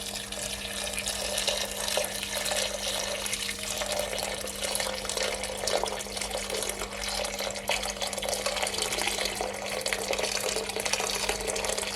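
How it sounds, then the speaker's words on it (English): Water from a kettle pours steadily over potatoes in a pot, a continuous close splashing rush with a constant low hum beneath it. "Some water from my kettle. Make sure that the water is covering the potato."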